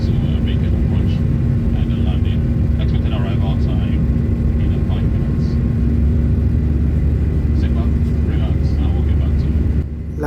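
An airliner circles above an airport in West Africa while waiting for landing clearance, heard from inside the cabin as a loud, steady engine drone and rumble with faint voices in the background.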